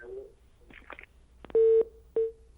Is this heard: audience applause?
no